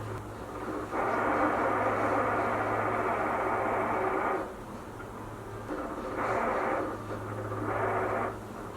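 Steady low hum of a refrigerator running indoors, with a broad hissing rush that swells in and out in several long stretches over the top, fairly quiet and continuous, no talking.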